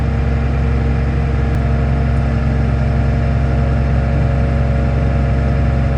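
A corn planter's vacuum fan runs steadily while replanting corn and beans, a loud, constant mechanical drone with a tractor engine hum underneath, unchanging throughout with no talk.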